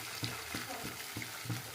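Onions frying in hot oil for a chicken curry, with a soft, steady sizzle and a few quiet stirring scrapes, faint and close.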